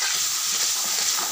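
Onions with salt being stirred and fried in a pan, a continuous bright sizzle with soft scraping of the stirring, close and steady.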